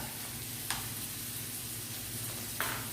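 Onions sizzle and fry steadily in a pan for a steak and vegetable curry, a constant close hiss with two brief spatula scrapes, no voices.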